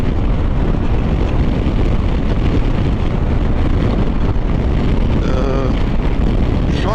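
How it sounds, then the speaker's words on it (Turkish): Strong wind buffets the microphone of a rider on a KYMCO DTX 360 maxi scooter, above the windscreen, in a continuous low roar, with a faint voice murmuring briefly beneath it near the end. "şu üst kısımda bayağı rüzgar alıyorum"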